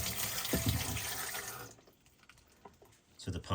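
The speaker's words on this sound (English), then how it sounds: "Yeah, just pour some water in." Water is poured into the drain side of a GE Cafe double drawer dishwasher during installation, splashing steadily for under two seconds before easing off, with a brief trickle and splash again at the end.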